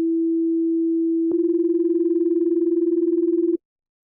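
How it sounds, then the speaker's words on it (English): A single steady sine tone is joined by a second tone of nearly the same pitch, producing a clear, regular pulsating beat that lasts about two seconds before both stop abruptly. "Beating is pulsating sound that happens when two sine waves of close frequencies sound"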